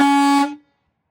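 A single loud, steady air horn blast from a 2018 Entegra Aspire 44R motorhome, held briefly and then cut off sharply into silence.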